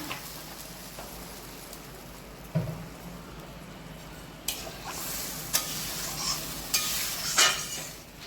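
Water poured into hot oil and spices for a Bengali koi fish curry, bursting into a loud hissing sizzle with several sharp spits and crackles that swell in the second half.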